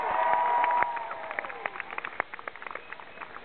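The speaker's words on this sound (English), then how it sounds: "Let's give Mallory one more round of applause." An audience applauds at a Michelle Obama event at FAMU, a loud burst of clapping and cheering that thins into scattered claps.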